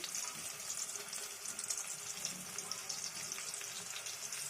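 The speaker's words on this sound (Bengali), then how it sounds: "শাক ভাজি করতেছি শাক রান্না করতেছি" Leafy greens and green chillies fry in a pan, giving a soft, steady, crackling sizzle with a fine hiss that runs unbroken and fairly faint throughout.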